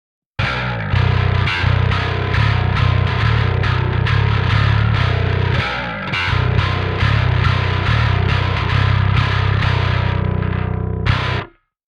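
Bass guitar run through a Parallax X pedal with its high distortion drive turned all the way up, producing a loud, saturated, gritty tone in steady repeated picked notes with a brief pause near the middle and an abrupt stop at the end.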